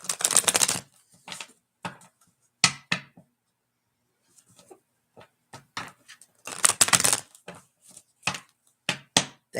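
Tarot cards being shuffled in bursts, crisp riffling and flicking with pauses between, close and fairly quiet.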